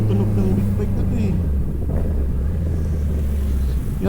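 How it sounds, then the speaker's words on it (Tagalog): A big bike motorcycle engine runs steadily with a low, throaty rumble, loud and close, while someone talks over it. "Na-miss ko din yung tunog ng big bike na to eh."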